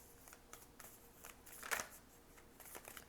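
Tarot cards being shuffled by hand, a run of quick papery riffles and flicks with one sharper snap near the middle, close and fairly quiet with no talk.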